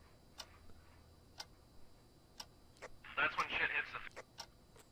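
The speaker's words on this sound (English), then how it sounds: "Why is this clock counting down?" Regular ticking from a clock in the Phasmophobia ghost-hunting game, evenly spaced light clicks about once a second, with a brief louder burst of game noise partway through and faint voices around it.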